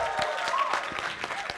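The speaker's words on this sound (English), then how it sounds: "can we get a big round of applause" A crowd at an RMNA 2024 3v3 event breaks into a brief burst of cheering and clapping, with scattered louder claps rising above a steady wash of applause.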